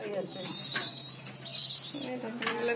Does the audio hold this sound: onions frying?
no